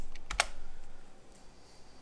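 A few quick keystrokes on a computer keyboard while searching for software in Linux Mint, soft clicks in a short cluster and then quiet room tone.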